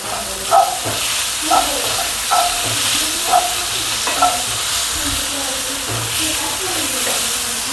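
Cashews fry in a little oil with a steady, bright sizzle, and a spoon scrapes and stirs through the pan at regular intervals.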